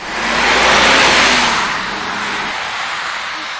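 A passenger bus pulls up at a roadside stop, its engine rumbling loudly for a moment before the noise eases back to a steady lower idle.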